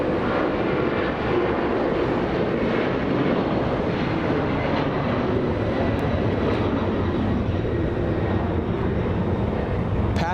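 A Boeing 767 freighter of ABX, formerly flown by All Nippon Airways, roars past at Los Angeles International Airport, its jet engines a loud, broad, steady rumble that stays constant throughout.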